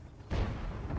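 A heavy tank gun, the one players call the Babakha, fires in a tank battle game, a single deep boom that rolls into a low rumbling tail.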